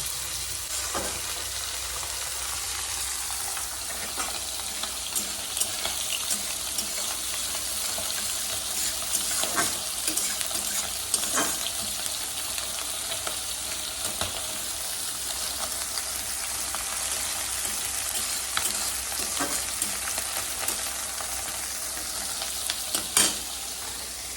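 Fish fry in hot oil with a loud, steady sizzle and crackle. Sharp pops and spits break through now and then, close up throughout.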